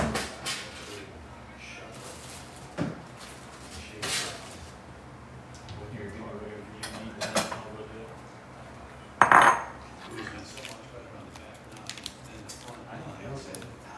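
Metal cutlery clinks and scrapes against a dish while butter is scooped, with scattered light taps and one sharper clatter over steady background noise, as a person talks at times.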